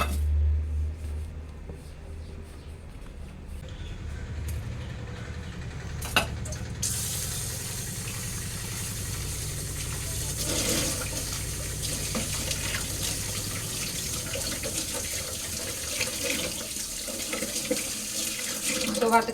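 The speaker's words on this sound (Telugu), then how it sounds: "సో వాటర్ అయితే పోసేసుకుంటాను." Water runs from a kitchen tap into a cooking pot for a dry fish and brinjal curry, a steady splashing stream that lasts throughout with a faint knock partway in.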